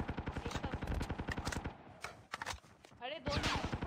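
Automatic weapon fire in the mobile shooter Call of Duty Mobile, played on an emulator: rapid bursts of game gunshots, then a pause and scattered shots, with people talking over the action.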